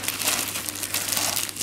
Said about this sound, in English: We've got a little rule book in a strange little plastic bag.